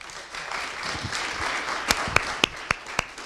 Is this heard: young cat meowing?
no